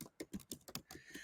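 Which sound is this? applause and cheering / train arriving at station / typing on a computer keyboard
typing on a computer keyboard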